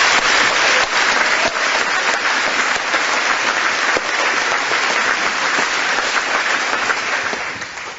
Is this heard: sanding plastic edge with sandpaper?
no